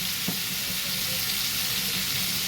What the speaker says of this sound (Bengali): এর মধ্যে খানিকটা পেঁয়াজ কুচি আমি দিয়ে দিলাম।